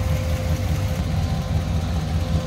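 A 1941 Chevrolet AK pickup engine idles steadily with a low, even rumble, close up and loud, with no voices.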